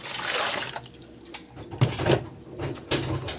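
Half a litre of water poured into a container for a dishwashing soap foam test, a close splashing rush that fades, then a few light knocks and drips in a quiet kitchen.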